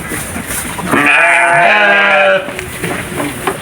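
A sheep bleats once in a long, wavering, loud call close by on a Thai farm, with faint background noise before and after.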